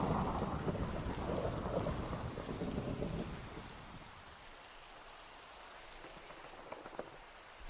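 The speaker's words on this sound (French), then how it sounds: "Oh, il y a de l'orage." A Minecraft thunderstorm with rain: heavy loud downpour and rumbling thunder for the first few seconds, then it thins to a quieter patter with faint scattered drips and ticks.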